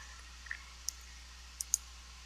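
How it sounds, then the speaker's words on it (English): A mouse clicks a button in a web browser: a few sharp, quiet clicks spaced irregularly over a faint steady background hum, with no talking. "let me click on the first button"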